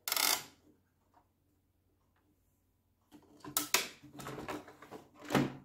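Small 10 by 15 cm glossy photo paper goes into the pulled-out tray of an Epson EcoTank L6160 printer, giving a brief plastic click, a pause, then a run of close sliding, tapping and rattling handling noises.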